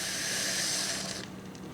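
Steam hissing steadily from an Instant Pot pressure cooker as its valve pops up, a loud, close, continuous hiss that fades out near the end.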